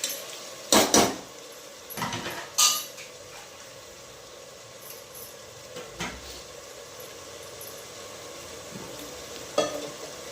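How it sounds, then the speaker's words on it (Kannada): Frying in a pan while cooking tomato bath, the Karnataka rice dish: a steady low sizzle runs throughout, punctuated by a few sharp scraping stirs and utensil clatters near the start and end. "ನೋಡಿ ಫ್ರೆಂಡ್ಸ್, ಫ್ರೈ ಆಗ್ತಾ ಇದೆ."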